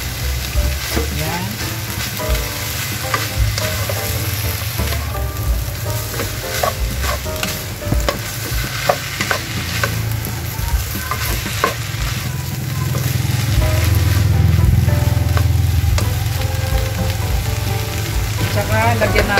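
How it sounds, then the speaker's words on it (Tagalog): Fish sauce hits a hot frying pan with steady, loud sizzling and frying that runs throughout, swelling louder near the end, with occasional stirring scrapes and a brief spoken word. "Tapos guys, magdadagdag tayo ng patis."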